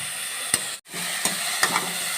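Chillies, onion and tomato sauté with salt in a pan for Gujarati batata poha, a steady close sizzle with a few sharp spoon taps and one brief pause.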